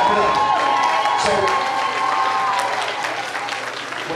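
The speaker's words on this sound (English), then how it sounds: "Let's clap it up." Audience applause fills a school celebration for African-American History Month, a steady, dense patter of many hands clapping close by, lasting the full stretch with slight cheering mixed in and fading a little toward the end.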